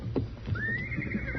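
A horse in a western radio drama gives a loud, rising whinny that trails off, joined by a few hoof clops and soft rustling, and no talk.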